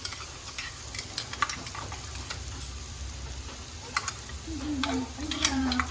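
Onions softening in hot oil sizzle quietly while a spoon stirs and scrapes with intermittent clicks, as ginger, garlic and green chili paste go in for a Tamil Nadu-style chicken biryani.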